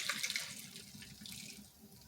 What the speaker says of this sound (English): I'm going to get a glass and pour a bit in it